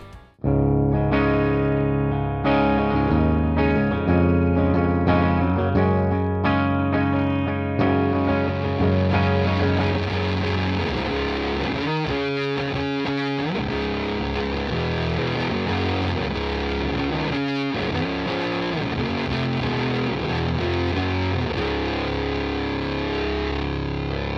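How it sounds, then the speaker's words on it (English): Electric guitar played through a distorted amp blended with a clean amp, gritty distortion and clean tone mixed, sustained chords and single notes ringing with effects. "you can blend a distorted amp with a clean amp."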